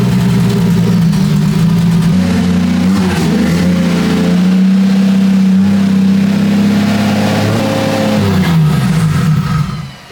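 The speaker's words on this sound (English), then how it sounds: "Yikes, that's very rough idle." A 2JZ-engined car idling roughly on a base map, loud and close, its deep uneven engine drone wavering steadily and alone throughout with no talk over it.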